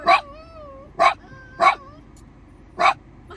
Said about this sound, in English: Mickey's on the bark